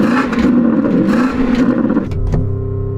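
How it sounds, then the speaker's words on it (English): A Porsche Cayenne Turbo GT engine revs loud and close, a sustained roar held against a soft limiter, then dropping briefly before surging again into a steady high drone. "So I'm going to rev up this Porsche."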